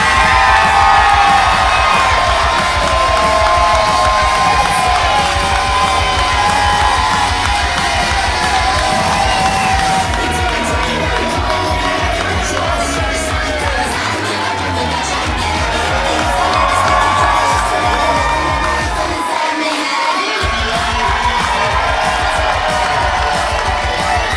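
A packed professional wrestling crowd roars continuously before a main event, loud and dense cheering, whooping and shouting filling the whole stretch with steady energy.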